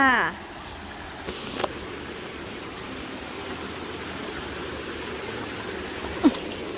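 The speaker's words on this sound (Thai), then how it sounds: "ก็น้ำไหลเย็นนะคะ" Cool stream water flowing near a forest waterfall, a steady broadband rush heard continuously with a brief voice at the start and a few small knocks.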